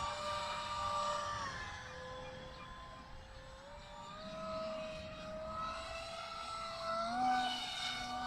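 A small RC model airplane flies in gusty wind, its thin electric motor whine shifting in pitch as the throttle eases and rises, steady and fairly close with wind noise underneath.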